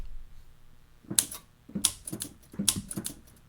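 Sampled antique typewriter keys struck in short bursts, several sharp metallic clacks with bright high ticks, grouped into three clusters over a few seconds, played alone and moderately quiet.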